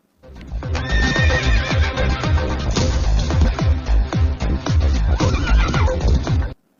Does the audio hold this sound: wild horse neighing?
yes